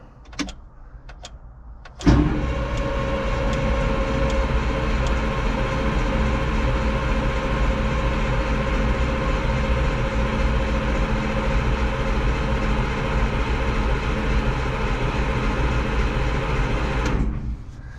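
An old Caterpillar 225 excavator diesel engine turns over after a short pause, a loud, steady droning crank sustained for about fifteen seconds before cutting off abruptly, with faint clicks beforehand.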